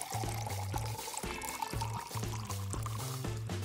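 Hot water poured over corn leaves for tamales, a continuous splashing pour mixed with bright trickling and bubbling, heard up close under steady background music.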